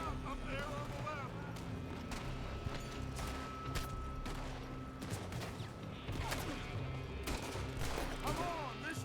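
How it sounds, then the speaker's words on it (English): Rapid, irregular gunfire from a video game, with sharp shots and short automatic bursts scattered across a busy battle soundscape, while voices shout now and then under the shooting. "They're shooting from that building."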